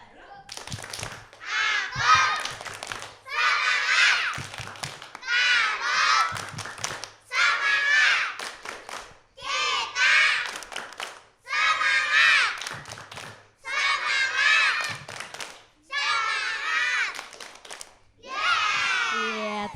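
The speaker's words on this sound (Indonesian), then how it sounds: "Yuk kita tepuk semangat lagi biar tambah semangat" A group of children at a healthy-eating and disease-prevention session performs a spirit-clapping cheer, chanting in short, evenly spaced rhythmic bursts punctuated by sharp claps, with brief pauses between phrases.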